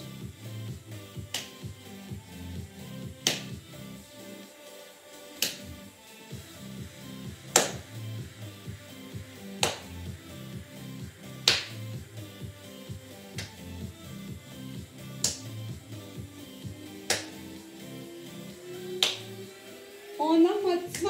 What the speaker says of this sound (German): du versuchst hinter den Knien zu klatschen